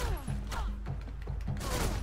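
A burst of rapid gunfire in the stealth video game Velvet Assassin, with several sharp repeated shots in quick succession, close and loud over game sound.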